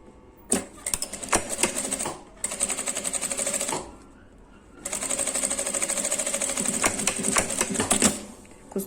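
A sewing machine stitches netting fabric for an essential oil holder, running in two bursts of rapid mechanical clatter separated by a short pause, close and loud.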